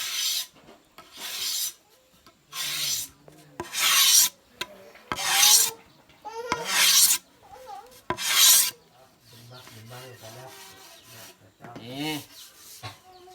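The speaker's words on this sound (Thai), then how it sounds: "ขูดอัน เปลือกมันออกนี่เห็นบ่" The skin is scraped off split cane strips with a blade for basket weaving, making repeated rasping strokes in separate bursts with short pauses between, close and fairly loud, alternating with quieter shuffling.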